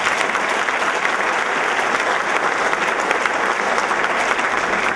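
Loud, sustained applause from an audience at a spring sports awards ceremony for student athletes, a dense steady roar of clapping throughout.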